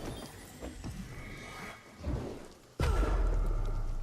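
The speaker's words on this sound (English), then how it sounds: "I don't know if it like just permanently rains in this fucking zone or what" Steady rain pours down in the RuneScape Dragonwilds game world, a constant broadband hiss with a few low rumbling swells, growing louder and heavier near the end.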